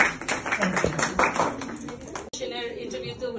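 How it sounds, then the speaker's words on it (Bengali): Scattered audience clapping at a fashion designer's solo clothing exhibition, sharp claps in the first half that thin out later, with voices talking over them throughout. "হাততালি হয়ে যাক আপনাদের"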